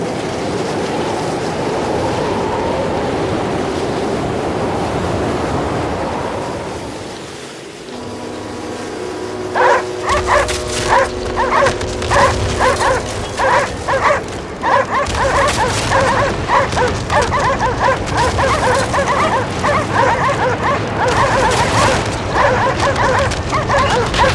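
Dogs bark repeatedly in the snowy video game Cryostasis, a dense run of yips and barks over a rumbling, stormy background that starts after a quieter, windy stretch.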